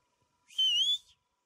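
A single short, clear phrase of whistled speech with a gently wavering pitch, loud and close, against near silence.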